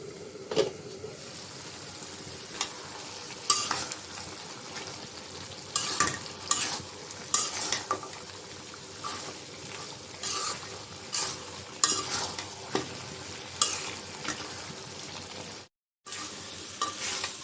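Chickpea dal and beef are stirred and fried in a pan, with repeated scraping spoon strokes cutting through a soft background sizzle at an uneven, steady pace before a brief dropout near the end.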